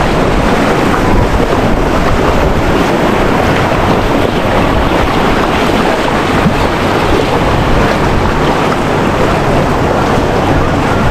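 Loud, constant roar of rushing floodwater during Typhoon Kristine in Nabua, mixed with heavy wind buffeting the microphone, steady throughout with no pauses.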